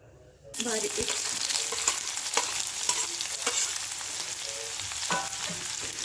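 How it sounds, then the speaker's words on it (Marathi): Loud, steady crackling and popping of cumin and mustard seeds in hot oil in a kadai begins suddenly and continues throughout, close and busy. "जिरे आणि मोहरी तडतडल्यावर"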